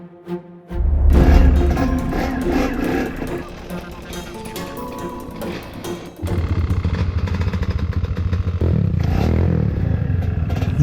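An enduro motorcycle squeezes along a narrow forest trail between close trees, its engine revving and popping loudly up close amid clattering and scraping, then settling into a steady throaty drone in the second half.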